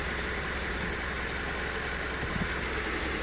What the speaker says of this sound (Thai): เครื่องยนต์เดินเรียบนะพวงมาลัยไม่ดิ้นไม่สั่นนะครับ นิ่ง